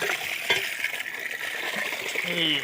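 Water sloshing and splashing as something is rinsed clean by hand in a container, a steady close wet churning with a few sharper knocks, no voices.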